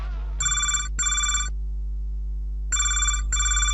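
Telephone ringing on an incoming call to a local FM radio station, two pairs of bright electronic rings separated by a pause over a low steady hum, no talk.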